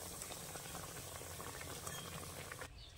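Dense, steady bubbling and crackling of food deep-frying in hot oil, continuous and fairly quiet, easing off slightly at the very end.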